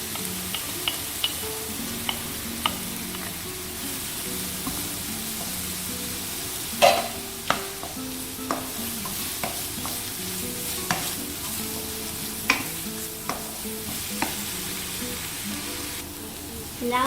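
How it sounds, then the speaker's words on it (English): Lamb meatballs and ginger garlic paste fry in oil in a pan, with a continuous sizzle broken by occasional sharp clinks and scrapes of a stirring spoon, and no one talks. "we're going to fry them till they're separated from the oil. Alongside, we're going to put in the ginger garlic paste as well"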